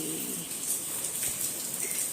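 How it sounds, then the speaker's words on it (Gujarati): Rain falls steadily in a continuous, even hiss with scattered drops, moderately close and without talk, during the monsoon at home. "જો વરસાદ પડે છે"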